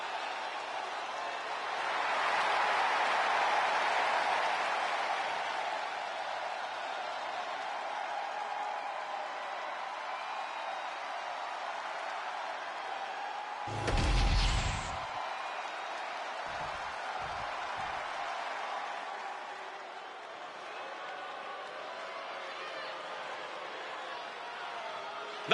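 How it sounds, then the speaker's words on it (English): A WWE 2K25 arena crowd cheers and roars as a broad, distant wash that swells early and then holds, under a commentator's voice, with a few sharp thumps in the middle. "This crowd is absolutely frenzied."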